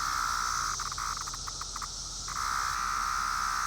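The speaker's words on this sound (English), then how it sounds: "Only male can sing or make this loud sound." A male periodical cicada of a 17-year brood sings loudly up close, a steady high buzzing drone that briefly pulses and dips midway before resuming at full strength, with no voices.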